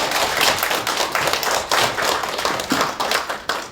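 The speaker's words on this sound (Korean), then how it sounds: "박수 부탁드립니다." A small audience at a 2018 Buddhist studies academic workshop gives a short round of applause, uneven and fairly close, with distinct individual claps and taps pulsing through.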